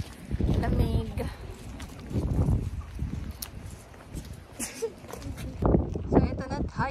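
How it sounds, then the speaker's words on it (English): Gusty wind buffets the microphone at foggy Land's End in Cornwall, roaring in uneven surges, while a person talks over it. "nanunulak ang wind. Sakto lang, pero foggy."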